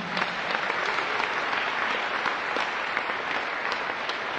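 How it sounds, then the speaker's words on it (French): A Christian congregation applauds to acclaim the Lord in a steady, even wash of clapping from many hands throughout, with no break and no speech over it. "On peut acclamer notre Seigneur."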